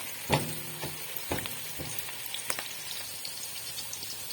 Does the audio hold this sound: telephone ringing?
no